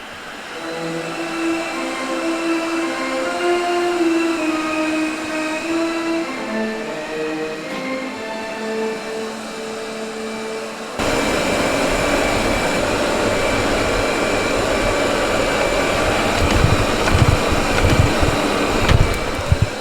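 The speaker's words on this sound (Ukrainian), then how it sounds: "Якщо ви ще собі не придбали робот пилосос то дуже рекомендую." A steady mechanical whir of a robot vacuum running, with a louder, rougher motor noise kicking in partway through and continuing to the end.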